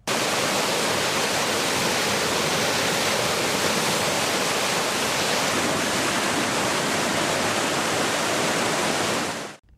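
Water released from the Thirumoorthy dam gushes in a loud, dense, continuous roar that stays steady throughout with no voices, then cuts off abruptly at the end.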